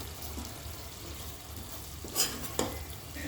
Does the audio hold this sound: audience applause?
no